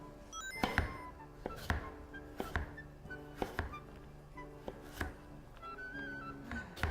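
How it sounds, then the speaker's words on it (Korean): A knife finely minces raw carrots on a cutting board with about eight sharp, evenly spaced chops, close and fairly quiet. "당근을 이렇게 잘게 다져주신 다음에요."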